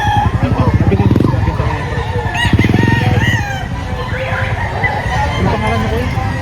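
Rooster crowing at a poultry market in Lipa, Batangas, with repeated clucking and several birds calling close by, under steady crowd chatter and voices throughout.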